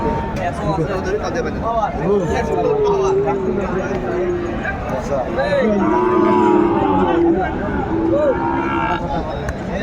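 Sahiwal cattle moo repeatedly at a livestock market, long drawn-out calls rising and falling, over the loud chatter of a crowd of people talking nearby.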